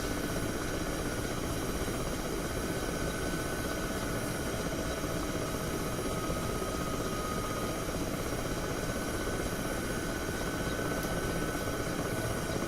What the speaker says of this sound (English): there's a friendly helicopter down there